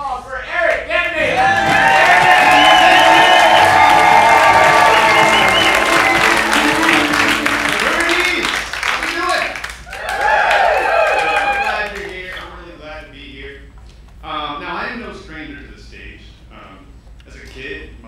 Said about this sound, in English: How about a big round of applause for Erik Gedney?